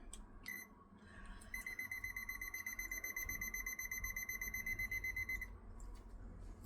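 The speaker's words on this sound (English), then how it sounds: "That's my egg timer." A kitchen egg timer beeps in a rapid, steady electronic pattern for about four seconds while it is being set, close and clear over quiet room noise.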